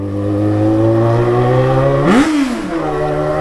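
A Yamaha XJ6 motorcycle's exhaust roars loudly and close while riding, a steady deep drone that briefly rises in a quick rev before settling back.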